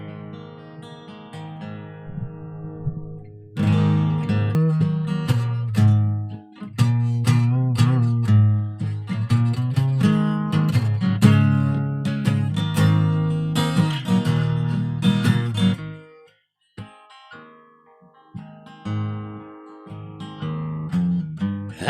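A Wilder Creek acoustic guitar plays plucked notes and strummed chords alone, close and clear, with brief pauses between phrases.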